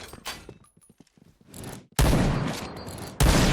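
Gunfire in a sniper-mode online shooter game crackles in bursts, first scattered sharp shots, then a loud sustained volley and another burst at the end.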